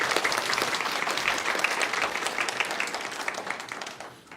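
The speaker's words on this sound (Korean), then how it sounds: "열띤 강연해 주신 이다연 후보님께 다시 한번 뜨거운 박수 부탁드립니다." A lecture audience in a Korean university hall applauds a political speaker after her talk, a steady wash of dense clapping that holds loud for about four seconds and then begins to thin out.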